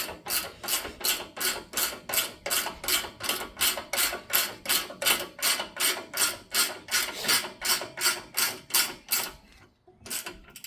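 A ratchet tightening a bolt on a new HaloLifts coilover, about two dozen even, close clicking strokes in a steady rhythm that stop near the end, with no one talking.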